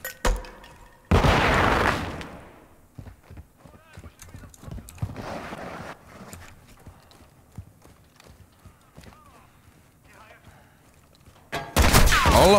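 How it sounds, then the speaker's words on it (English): Call of Duty: Modern Warfare 2 gameplay with a flashbang and gunfire: a loud burst near the start and another at the end, separated by scattered quieter shots and game noise, with players talking throughout. "Flashbang out!"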